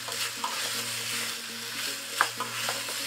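Onions and curry paste sizzle in a sauté pan, a steady close frying hiss broken by light stirring taps and one sharper clink.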